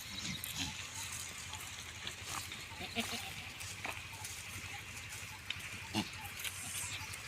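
Several goats bleat in short calls scattered over a low, steady background, with people talking faintly now and then.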